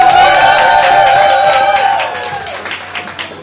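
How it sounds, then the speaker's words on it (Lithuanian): An audience at a Christmas contest breaks into loud cheering and applause, with whoops over dense clapping that gradually thins into scattered claps. "Audringais plojimais padėkokim mūsų dalyviams."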